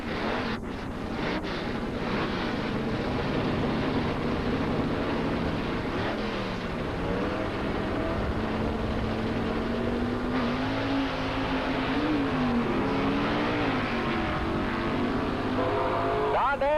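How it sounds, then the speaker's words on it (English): A big block Chevrolet drag car driven by Don Dabbs roars down the strip at Valley International Dragway in 1985, a long loud sustained engine drone with wind rush, under an announcer's continuous commentary. "Don Dabbs with the big block Chevrolet on the pit side, pulling on the big end."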